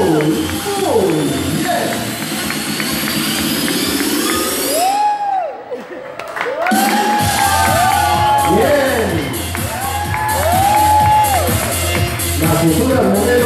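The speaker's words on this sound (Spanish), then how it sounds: "Y le damos otro aplauso a esta pequeñita." An audience claps, cheers and whoops for a little girl walking as a model at a stage show, the crowd noise rising and falling under an announcer's voice and music.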